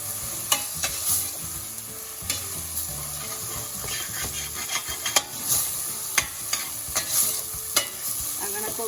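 Food sizzles softly in clarified butter in a pan for a kidney bean curry, a continuous low hiss broken by irregular scraping and clinking strokes of a spoon stirring, with no voices.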